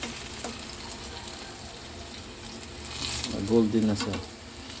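Saba bananas fry in a pan with a soft, steady sizzle and a few bubbling pops that swell briefly near the end, while a person talks over the cooking.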